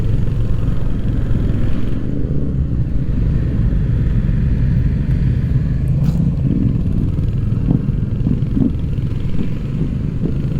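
A Royal Enfield Hunter 350 motorcycle riding on a road, its engine a steady, loud low rumble with wind noise that continues without a break.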